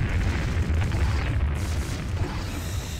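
An enemy ship is destroyed in the Imperium Galactica 2 space strategy game, giving a deep, rumbling explosion that stays loud and sustained for the whole short stretch with no clear separate hits.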